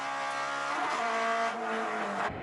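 Honda Civic with a turbocharged K20 and a naturally aspirated K20 Honda Fit race car accelerating hard on a track: loud, continuous engine howl rising in pitch through gear changes, close and without talk.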